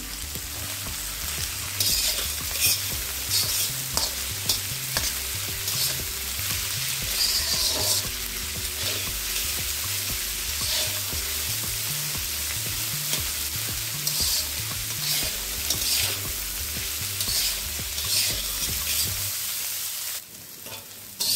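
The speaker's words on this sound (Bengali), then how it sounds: "ফুলকপির সঙ্গে এই সমস্ত সবজিটাকে আমি 10 মিনিট ভেজে নিয়েছি" Cauliflower, carrot and beans with salt fry in a pan, a steady close sizzle with scraping stirring strokes running for about twenty seconds before it suddenly drops away.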